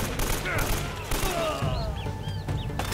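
Rapid bursts of automatic gunfire in the video game Uncharted: Drake's Fortune, with dense shots crackling through a busy game mix, while a voice talks over the action.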